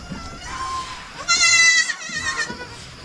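Newly added goats, small pure-bred animals on a provincial farm, bleat loudly and close by, with one long wavering cry in the middle and shorter calls around it.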